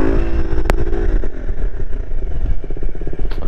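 A supermoto motorcycle engine runs loud and close during a wheelie, with a steady throttled drone that wavers and turns into a pulsing, chopping rhythm as the revs drop.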